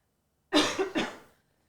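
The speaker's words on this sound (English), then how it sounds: "sorry, I'm about to cough," A single adult cough burst in two or three quick pulses, close and fairly loud, with no talking around it.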